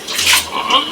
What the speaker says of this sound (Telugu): నీళ్ళు అనేది పోసుకోవాలి